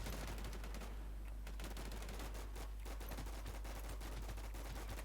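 Rapid automatic gunfire in the online zombie shooter WarZ, dense continuous bursts of shots filling the whole stretch at a steady loud level.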